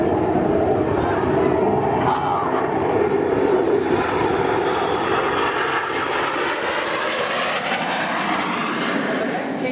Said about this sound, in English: These 4 aircraft are now descending to 100 feet.